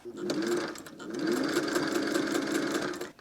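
A sewing machine stitches a skirt, its steady whirring motor running close and continuous with one brief slowdown near the start.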